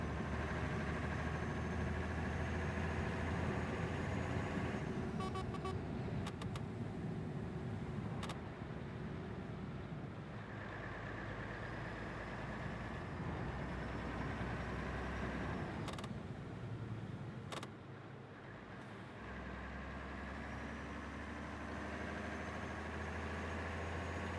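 A Mercedes Actros truck engine in Euro Truck Simulator 2 drones steadily as it accelerates, a continuous low rumble with brief clicks and shifts, heard alone without talk.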